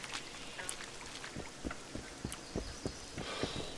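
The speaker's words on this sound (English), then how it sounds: "And now it's starting to rain." Rain begins falling in The Witcher 2, a steady patter of drops with scattered soft thuds and occasional brighter splashes, moderately loud and continuous without talk.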